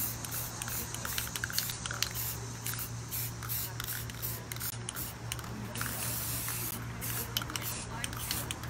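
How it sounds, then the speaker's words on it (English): Spray finish is applied in repeated short bursts of hissing during furniture refinishing with gel stain, steady and close over a low electrical hum. "Okay, so now I think I'm just gonna spray."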